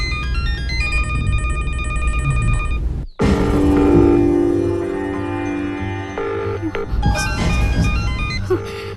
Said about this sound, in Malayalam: ഫോൺ റിങ് ചെയ്യുന്നുണ്ട്, പക്ഷെ ആദ്യം ഫോൺ എടുക്കുന്നില്ല